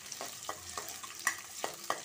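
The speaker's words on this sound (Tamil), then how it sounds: "இதை வந்து பொடியாக கட் பண்ணி இந்த எண்ணெயில் போட்டு வதக்கிக்கலாம்." Finely chopped ginger, garlic and green chili sauté in hot oil for an Indian-style macaroni pasta, a close, steady sizzle broken by several soft scraping stirs.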